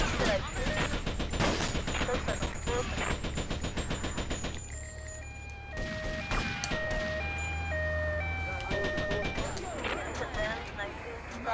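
Sustained machine-gun fire in GTA Vice City, a fast rhythmic rattle for several seconds that pauses, then resumes in bursts, mixed with tinkling game music and sirens while someone talks.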